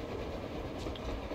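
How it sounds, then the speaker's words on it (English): A train passes on the surface in the Metro Exodus video game, heard as a steady, loud rumbling rail roll with faint clickety-clack, continuous and without talk. "A damn train on the surface!"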